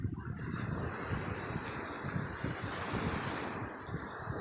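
Ocean waves wash and roll continuously with wind buffeting the microphone, a steady broad roar of surf close by and no voices.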